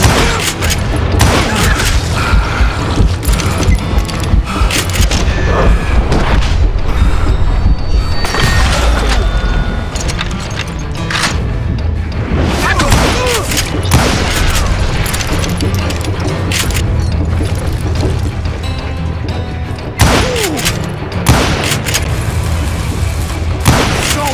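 Loud, dense gunfire from a Wild West gunfight in the Call of Juarez: Gunslinger video game, with continuous booming shots and volleys throughout, mixed with game voices shouting over the battle.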